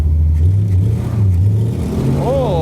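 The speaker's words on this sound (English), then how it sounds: "Oh, spinning tires." A 1975 Corvette Stingray spinning its tires, a loud revving engine surging and dipping with a rising squeal near the end, while people talk over it.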